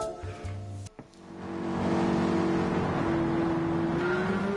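Race car engines rumble and rise at the start of a Gran Turismo 7 race, a brief in-game menu tone and click giving way to a growing, sustained engine drone from several cars that holds loud to the end.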